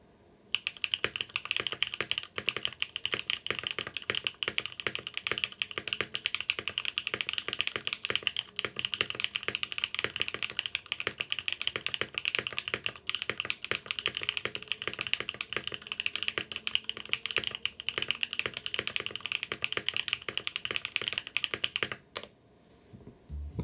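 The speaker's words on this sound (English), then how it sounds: "let's do a quick typing test" Steady, rapid clacking of keys on a plateless Vertex Arc 60 mechanical keyboard with JWK Oolong switches, continuous for about twenty seconds at close range during a typing test, then stopping abruptly.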